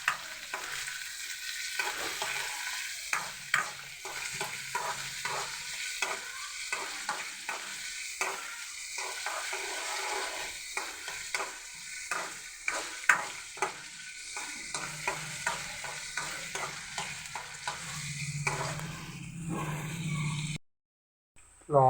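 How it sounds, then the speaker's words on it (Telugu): Onions deep-fry in oil in a home kitchen, a steady sizzle under regular, repeated scraping strokes of a stirring utensil for about twenty seconds before the sound cuts out briefly near the end. "బాగా ఫ్రై చేసుకుని డీప్ ఫ్రై చేసుకోవాలి ఆనియన్"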